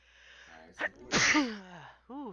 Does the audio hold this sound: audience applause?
no